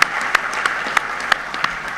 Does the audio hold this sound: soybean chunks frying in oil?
no